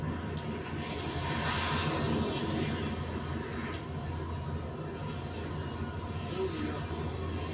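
A fighter jet roars in GTA 5, a steady loud engine rumble and whoosh that holds throughout, with faint voices mixed in.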